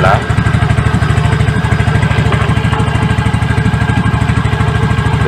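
A Yamaha Mio J scooter engine idling close by, steady and loud, with an even, rapid putter, and brief speech over it near the start.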